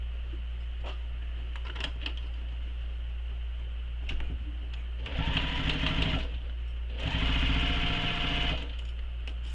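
Sewing machine stitching the exterior of a bag, with a few light clicks and handling noises, then two separate bursts of close, buzzing machine stitching.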